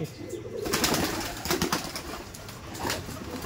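Quality pigeons housed at a breeder's sale loft give soft, low coos that run steadily, mixed with rustling and occasional flapping at close range.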